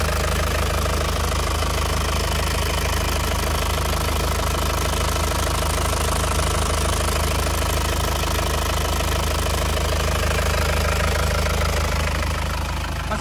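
A warm engine idles steadily in a first-owner 2014 Grand Touring car, a loud, close, continuous rumble with a fast rattling, knocking texture that holds unchanged throughout.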